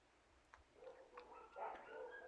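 Several dogs bark and whimper faintly in the background of a quiet indoor room, with a few short yips building into a cluster of higher, whiny barks.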